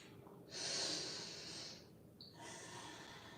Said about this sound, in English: Few more breaths here.